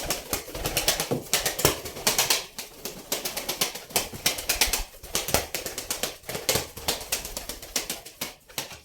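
Busy, clattering flutter and scuffling from a group of pigeons, with rapid wing flaps and movement filling the space nearby, fairly loud throughout.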